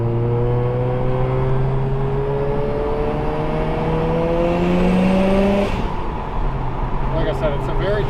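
A street-ported turbo Mazda RX7 rotary making a smooth rolling pull, its engine tone climbing steadily before a sharp shift, then pulling again, loud and close from inside the car.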